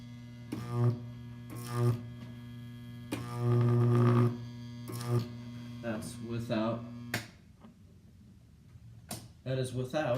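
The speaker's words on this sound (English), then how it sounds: "transformer's humming." A transformer in a 2.2 kV power supply gives off a steady low mains hum that runs beneath intermittent speech.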